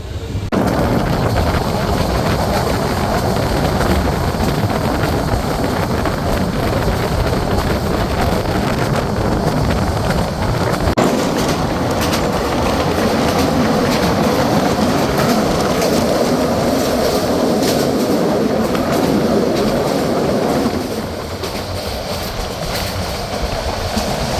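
The Parjotak Express runs from Dhaka toward Cox's Bazar at around seventy-five to eighty kilometres per hour, a loud, continuous rumble and rattle of carriages with wind buffeting, easing slightly near the end.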